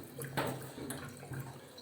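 Cooling water runs steadily through the dephlegmator of a moonshine still making apricot spirit, a soft continuous flowing and splashing close by with no voices.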